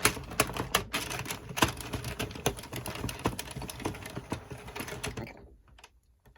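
A circular knitting machine is cranked by hand while a drop stitch column is worked, giving a busy, close stream of rapid mechanical clicks and clatter that stops abruptly near the end, with a brief spoken word.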